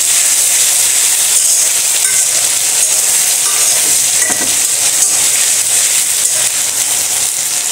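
Shapla (water lily stems) frying in mustard oil in a pan with stirring, giving a steady, loud, dense sizzle throughout with a few faint scrapes and clinks of the spatula.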